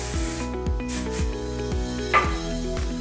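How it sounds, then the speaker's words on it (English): Short hissing bursts of hairspray sound over soft background music, with a faint rubbing noise in between, as long curly hair is sprayed. "Okay, and then I'm gonna spray again."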